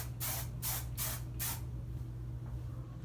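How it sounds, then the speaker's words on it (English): Hairspray is misted onto freshly curled hair in four quick hissing spurts, close and even, followed by quiet, with no speech. "I just take the tiniest amount of hairspray."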